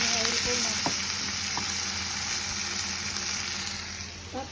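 Tomatoes fry in a pan of oil, a steady loud sizzle across the whole stretch with a few clicks of a stirring spoon, fading a little near the end. No one speaks.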